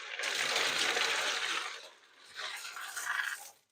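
Brownish water tinted by clay pebbles pours out of a hydroponic container in two close, splashing gushes, a longer stream followed by a shorter one.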